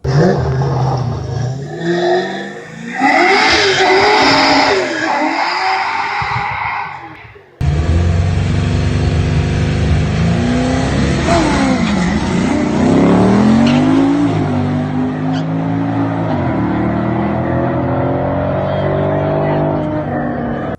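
A car with a 351 Windsor stroker engine (302 pistons, 5.956 rods, 3.85 crank) revs hard, its loud roar climbing and falling in repeated pulls, with a short break partway through.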